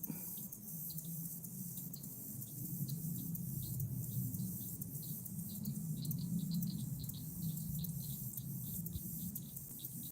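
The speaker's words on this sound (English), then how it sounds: "Clicking and chirping, those are frogs." Soft, rapid clicks and chirps of frogs repeat at a fairly steady pace over a low, hollow rumble of background noise outdoors in Starkey Wilderness Park.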